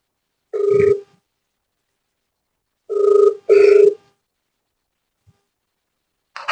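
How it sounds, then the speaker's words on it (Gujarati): Ringback tone of an outgoing phone call: three clear electronic rings, the last two close together, separated by silence. "હાલો પાછો ફોન કરીએ"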